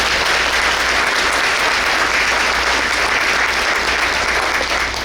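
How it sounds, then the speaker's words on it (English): A large audience at a school district's State of the District breakfast breaks into loud, sustained applause that fills the room evenly from start to finish, with hardly any voices. "Let's give them a round of applause."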